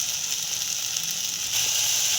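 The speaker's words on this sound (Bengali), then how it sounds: "মশলাটা ভাজা হয়ে গেছে" Spice paste with salt and sugar sizzles steadily in a pan while cooking Bengali doi katla, a close, continuous crackling hiss that brightens slightly toward the end, with no talking.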